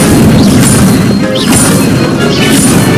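Incendio fire spell cast in the game Hogwarts Legacy: a loud, dense burst of crashing, whooshing game effects that keeps its intensity throughout, alone without voices.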